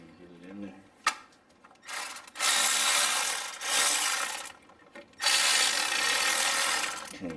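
Ratchet socket wrench with a 1/4 inch drive socket working a nut during engine removal on a 2009 Subaru Forester XT turbo EJ25: a sharp click, then two long sustained bursts of ratcheting clatter, close and fairly loud.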